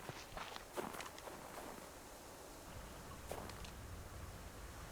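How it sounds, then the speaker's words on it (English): Footsteps of the player's own character in the video game Subsistence, faint and distant, tread in an irregular series of soft crunching steps over quiet outdoor ambience. "I think it was me, my own footsteps."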